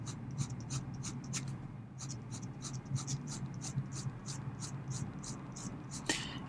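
A fine gold-nib Pilot fountain pen writes on paper in quiet, rhythmic scratchy strokes, each short stroke distinct and close, repeating steadily with a slightly louder scrape near the end.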